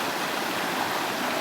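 A mountain stream's white water rushes steadily and loudly past rocks in a single unbroken wash, with no voices over it.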